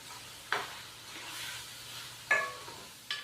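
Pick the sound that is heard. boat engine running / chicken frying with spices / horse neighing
chicken frying with spices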